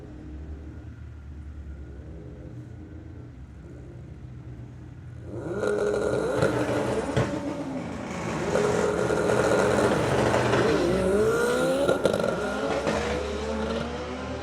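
Drag racing cars, an Audi among them, launch off the line at a summer nationals meet: a low idle rumble breaks into loud revving and accelerating engine roar with rising and falling pitch sweeps, close and without talk.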